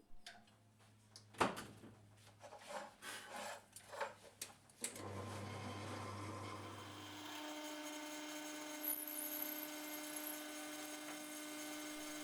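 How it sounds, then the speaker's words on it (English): Metal drill bit boring a hole through the dead centre of a home-built chain adjuster block for a Honda NC750X, a steady close whirring grind that settles in after a few sharp clicks and knocks. "Drill a hole in the dead centre so that the adjuster bolt can go through"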